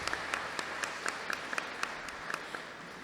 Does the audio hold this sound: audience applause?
yes